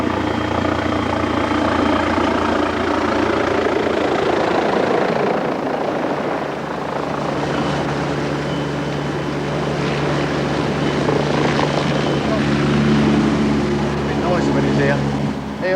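A helicopter's steady, loud rotor and engine roar fills the clip throughout as it hovers over a lighthouse helipad, with a low thumping drone and no break in the sound.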